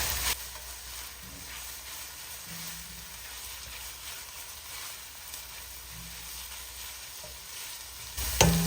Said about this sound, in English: Allow the garlic to toast up for a couple seconds.